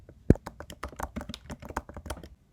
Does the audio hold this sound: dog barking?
no